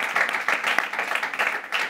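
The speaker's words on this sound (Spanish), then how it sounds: "Esto merece un aplauso" Studio applause breaking out during a Spanish live stream, a dense run of clapping with a few sharper individual claps over roughly two seconds, moderately loud and close.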